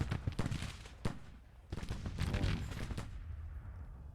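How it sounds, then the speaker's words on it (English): Musket volleys in the Civil War strategy game Grand Tactician, a rapid crackle of many overlapping gunshots with sharp individual reports and rolling bursts, dense and continuous with a slight fade toward the end. "I want bullets flying out of these guys' guns at these people, just if nothing else, just for the effect"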